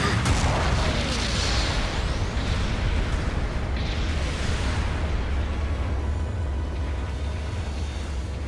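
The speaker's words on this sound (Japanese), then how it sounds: "後方部隊からの支援砲撃が来ます。" A support artillery barrage in Gundam Battle Operation 2 pounds steadily, with dense, continuous rumbling explosions and booming impacts layered throughout.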